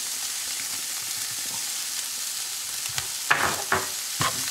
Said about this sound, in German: und unsere Zwiebeln rein.